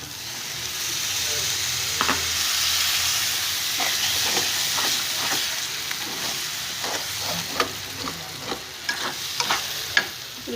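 Tomatoes frying in a pan with a paste of lightly browned ground onion, a steady close sizzle with intermittent stirring clinks and scrapes toward the end.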